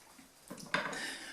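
A pot lid set down onto a pot of simmering Moroccan harira soup, two quick metallic clinks followed by a brief ringing rattle, close and fairly quiet.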